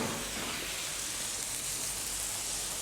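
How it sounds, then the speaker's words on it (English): A steady, fairly quiet sizzling hiss from chicken being flambéed with raki in a hot pan continues unbroken with no voices. "Now I'm going to flame the chicken with some raki to add some bite to the dish."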